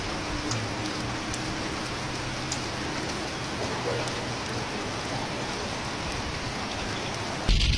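Heavy rain pours down steadily during a storm in Salento, Italy, a dense, constant hiss of drops on surfaces that fills the whole stretch without a break.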